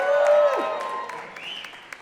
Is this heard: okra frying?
no